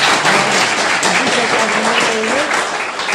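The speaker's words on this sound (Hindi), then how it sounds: "एक बार जोरदार तालियों के साथ," An audience at a college induction ceremony in Madhepura, Bihar, breaks into loud, dense, continuous applause, with a voice faintly audible underneath.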